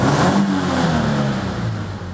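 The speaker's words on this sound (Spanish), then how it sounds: "ahora cuando lo subí de vueltas, se notaba que petardeaba un poco más" An engine revs loudly and steadily for about two seconds with no voices. The naturally aspirated Toyota GT86 has had an ECU remap, and its throaty note carries slight popping as it climbs in revs.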